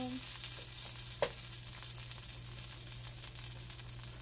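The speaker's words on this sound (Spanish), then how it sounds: "Haciendo mi pollo frito." Chicken frying in oil, a steady close sizzle with a brief clink near the start and no talk.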